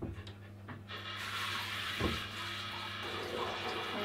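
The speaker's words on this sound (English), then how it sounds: "let's turn on the faucet a little bit more" A faucet runs steadily, water pouring with a soft continuous hiss and splash, close by and fairly quiet, with a few faint knocks near the start.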